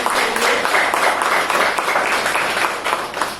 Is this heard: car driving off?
no